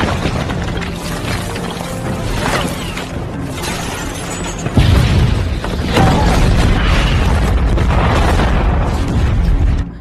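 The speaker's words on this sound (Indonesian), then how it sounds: "Seketika tiba-tiba saja bom atom telah meledak di hadapan para bandit" A film's atomic bomb detonates before a band of bandits: a massive boom hits midway and gives way to a sustained, loud roaring rumble that fills the rest of the scene.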